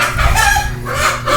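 A rooster crows loudly and close by in one continuous harmonic call lasting over a second, with a faint cluck-like texture underneath.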